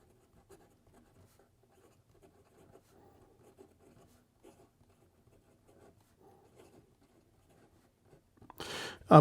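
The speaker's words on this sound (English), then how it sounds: "So here we go with the rest of the writing sample." Faint, close scratching of an ensso Piuma pocket fountain pen's firm nib writing a sample on paper, in many small strokes with pauses, then a louder rustle or handling noise at the very end.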